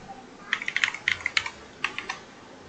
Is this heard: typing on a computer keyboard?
yes